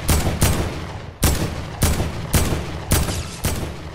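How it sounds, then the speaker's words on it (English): Rapid bursts of laser gunfire in the video game Fortnite, six or seven loud, sharp blasts spaced roughly half a second apart, each with a short ringing tail, close and with no talk over them. "Oh, I just lasered one."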